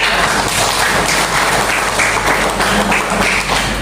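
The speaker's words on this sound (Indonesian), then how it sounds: "Tepuk tangan untuk kita semuanya." Children in a classroom at SDN Kedurus 1 Surabaya clapping together at the start of a lesson, a dense steady patter of small hands with some tapping and thumps, close and continuous.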